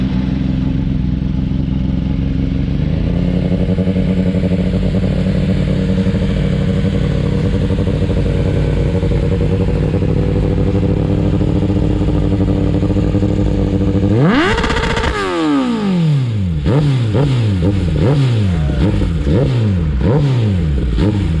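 A steady engine drone holds for several seconds, then a loud Ducati Panigale V4 superbike roars past close by with a rising and falling whoosh, followed by more bikes revving and passing in quick succession.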